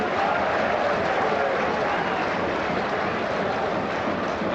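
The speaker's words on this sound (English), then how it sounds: "there is still applause for the team and singing from the majority of the away fans" Away Newcastle United football fans in the stands at Bournemouth's stadium, a continuous dense roar of crowd applause and singing that stays steady and full throughout, with no clear commentary over it.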